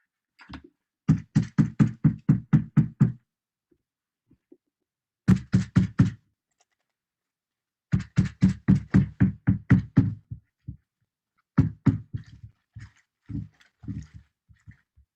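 Sharp wooden-sounding knocks from a tennis ball being used to make marks, arriving in quick rhythmic bursts of about eight evenly spaced hits, separated by short pauses, close and fairly loud with no talking.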